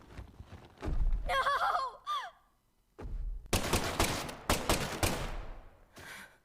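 Gunshots in the video game Deadly Premonition 2, a woman shooting, heard as sharp separate bangs and a closely spaced cluster of shots, with crow-like calls and a sigh between them.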